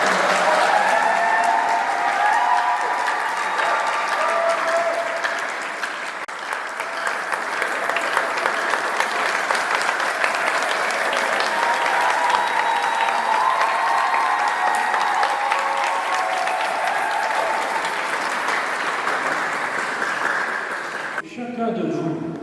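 Wedding guests applauding inside a church after a religious ceremony in Lyon, a sustained, reverberant wash of clapping lasting some twenty seconds before it stops abruptly.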